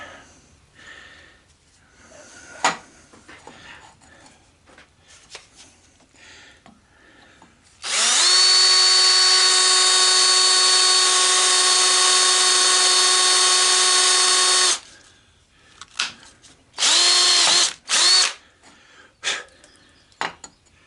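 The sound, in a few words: drill drilling holes in hoverboard wheel to remove bearing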